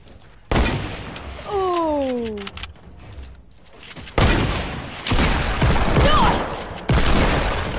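Rapid bursts of Fortnite gunfire from a hand cannon and a pump shotgun, several loud cracks and booms in clusters, mixed with game effects and a short descending whistle-like tone.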